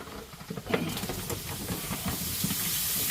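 Turkey pieces go into a hot pan already holding garlic, pepper and seasoning and hiss into a steady, broad sizzle that builds and stays level.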